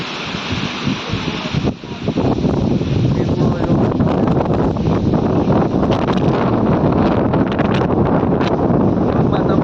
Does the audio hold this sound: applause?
no